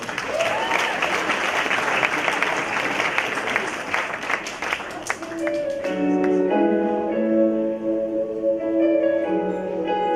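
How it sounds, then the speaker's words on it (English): Audience applause fills the hall at an annual gala, dense and loud for about six seconds before thinning out as a melodic music cue with sustained tones takes over. "Give yourselves a round of applause."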